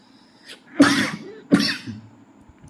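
Two harsh, close coughs about a second apart, with a softer throat sound just before them, in an otherwise quiet room.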